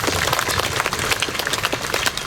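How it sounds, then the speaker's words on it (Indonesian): Applause from a crowd of civil servants at a provincial government morning assembly in NTT, a dense, continuous burst of many hands clapping at once, loud and close throughout. "Tepuk tangan buat kita semua dulu."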